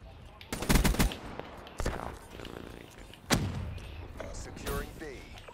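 Havoc (HVK) gun firing in Call of Duty: Black Ops III, a few sharp automatic bursts and single loud cracks separated by quieter game sounds and distant shots.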